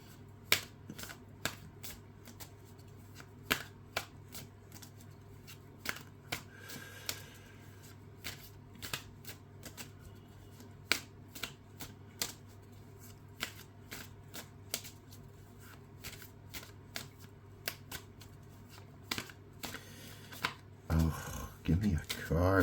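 Tarot cards are shuffled repeatedly, producing crisp riffling bursts and sharp flicks in an irregular rhythm over a low steady hum, with talking heard near the end.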